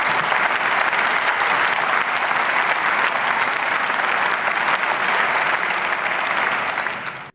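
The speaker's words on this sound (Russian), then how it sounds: "вот здесь вот овации уже побольше" Sustained ovation in the Bundestag during a special session, dense applause from a large chamber crowd filling the whole stretch at a steady loud level before tapering at the very end.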